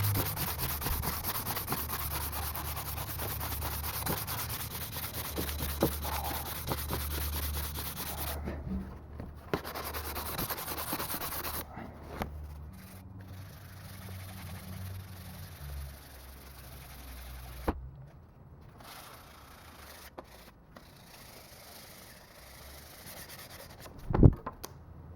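Sandpaper is rubbed by hand over a knife blade made from scrap metal, producing a long, steady, close-up scraping hiss in back-and-forth strokes. It fades and stops partway through, and a sharp knock comes near the end.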